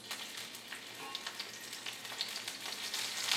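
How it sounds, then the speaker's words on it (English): Oil sizzles steadily in a pan as shrimp fry, with scattered sharp pops and crackles, growing slightly louder toward the end. "we're ready to start pan frying these"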